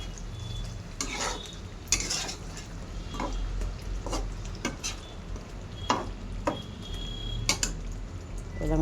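Fish with ground cumin and garam masala is stirred in a hot pan, a soft continuous sizzle broken by repeated scraping clicks of a spoon against the metal, close and quiet.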